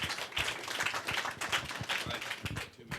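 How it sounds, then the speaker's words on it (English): Clapping from a crowd at a congressional district candidate debate, an irregular, fairly quiet patter of hands with uneven bursts that tapers off toward the end. "I think he deserves a round of applause"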